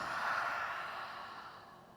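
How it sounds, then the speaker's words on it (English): A single long, soft breath pushed out through the mouth during a yoga flow, airy and close, fading gently over about two seconds. "Exhale through the mouth"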